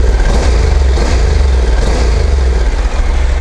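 A Honda CTX700 motorcycle with its stock exhaust runs loud and close, a steady deep engine drone with slight throttle swells, alone without talk.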